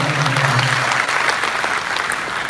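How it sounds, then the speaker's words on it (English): A town hall audience breaks into a short, loud round of clapping, dense and continuous throughout, with a faint low murmur early on. "Let's have a clap for that."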